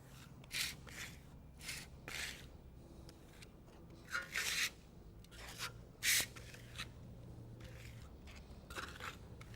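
Drywall texture compound is spread with a flat trowel and lifted off the wall, giving several brief wet scraping swishes at an irregular pace, fairly soft and close, with no talking.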